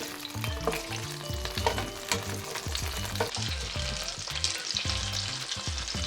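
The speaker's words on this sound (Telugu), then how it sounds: "ఈ వంకాయలు మొత్తం కొంచెం సాఫ్ట్గా మగ్గేలాగా ఇలా ఫ్రై చేసేసుకోవాలి" Cut brinjals fry in oil, a loud, dense, crackling sizzle that carries on throughout with faint stirring underneath.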